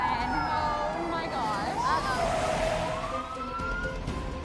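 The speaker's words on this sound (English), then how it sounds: "There's a siren." A police car siren wails through the scene in rising and falling sweeps, moderately loud, under party chatter and voices throughout.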